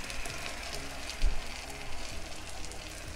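An onion and tomato blend hits a hot pan for jollof spaghetti, giving a steady, moderate sizzle with a soft thump near the middle and faint crackling throughout.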